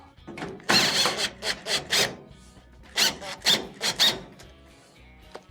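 A holding screw is driven back into the drive motor of a GE dryer, heard as bursts of close, scratchy rubbing and grinding turns in two quick clusters with short pauses between.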